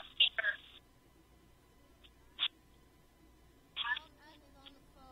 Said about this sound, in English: As you can hear, Melon is on the phone.